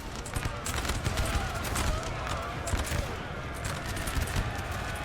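Musket volleys crackle from massed infantry in a Napoleon: Total War battle, a dense, continuous rattle of overlapping shots at middle distance with battlefield din, and a voice talks over it.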